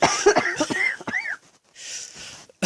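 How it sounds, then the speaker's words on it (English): A person coughs in a rough, repeated fit of several hacking bursts close to the mic, then a short pause and a softer breathy stretch before one last catch. "I think you like me coughing too much."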